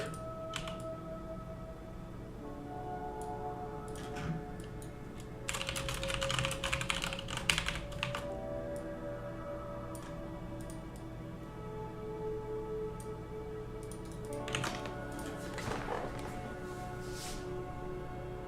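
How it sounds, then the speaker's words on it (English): Steady typing on a computer keyboard runs throughout, quiet and close, with denser bursts of keystrokes now and then against a low background hum. "Sometimes you wonder what I'm typing."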